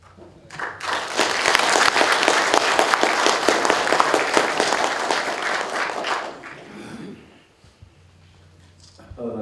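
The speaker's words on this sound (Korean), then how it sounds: "뜨거운 박수로 단상으로 모셔" Audience at a current-affairs lecture gives warm applause as the guest speaker is welcomed to the stage, dense clapping for about six seconds that then dies away into quiet room sound.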